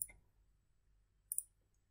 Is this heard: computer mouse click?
yes